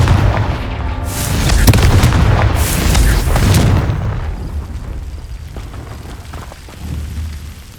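Confringo spell blasts in the Hogwarts Legacy video game, a loud rumbling explosion swelling over the first few seconds and fading into a lingering low roar, with a smaller thump near the end.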